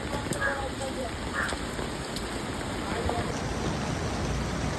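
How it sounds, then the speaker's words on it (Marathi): Heavy rain falls in a steady broad wash near a suspension bridge over a flowing river, with a few faint chirps and soft clicks scattered through it. "धो पाऊस पडते, धो।"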